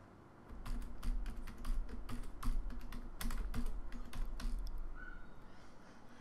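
Computer keyboard typing in quiet bursts of quick keystrokes, close and soft, entering a project name in Android Studio, pausing briefly before a final few taps.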